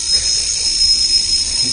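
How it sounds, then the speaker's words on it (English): A tape drive motor test device gives off a steady, high electronic alarm tone over a low hum, sounding continuously at close range. "There's an alarm."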